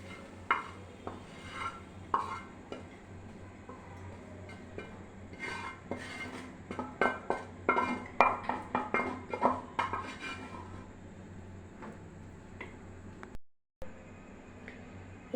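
Metal spoon scraping and clinking against a pan and plate as egg paneer bhurji is served out, a run of close, irregular scrapes and taps with a brief dropout near the end.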